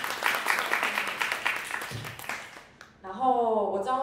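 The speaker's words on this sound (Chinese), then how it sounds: "大家给 VR 一个掌声鼓励" An audience at a blockchain talk on the Ethereum protocol claps in a fairly even burst of close, crisp hand claps that fades out after a few seconds, followed by a speaker talking.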